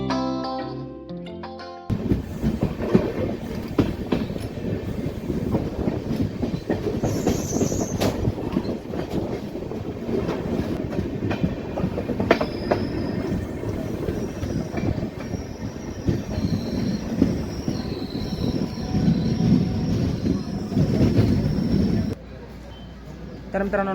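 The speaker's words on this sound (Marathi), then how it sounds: "आपली भगत की कोठी एक्सप्रेस पोहोचली आहे हिंगोली रेल्वे स्टेशनवर" The Bhagat Ki Kothi Express rumbles along near Hingoli station with a dense, continuous roar of carriages, rhythmic wheel clatter and occasional high squeals. Voices talk throughout, and the noise cuts off abruptly near the end.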